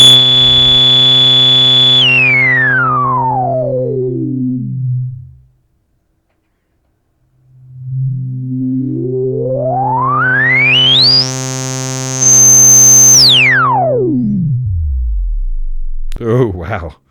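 Dreadbox Medusa synthesizer filter self-oscillating into a pure sine tone, sweeping down from a high pitch to a deep low rumble, stopping, then gliding back up to a piercing high whistle and plunging down again, loud and alone.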